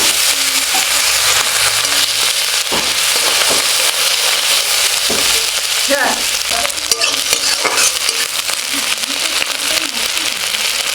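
Onions frying with bay leaf and cumin for aloo dum, a loud continuous broadband sizzle with scraping stirring strokes throughout, no voices.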